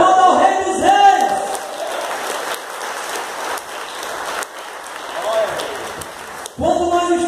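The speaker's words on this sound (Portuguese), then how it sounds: "Aplauda ao Rei dos Reis." Congregation applauding in a church service, a dense, sustained wash of many hands clapping that swells and fades, with a voice at the start and end.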